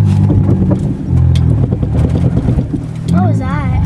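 A snow plow vehicle stuck with its wheels spinning, a loud steady engine roar with revving and whine close by, while people talk over it.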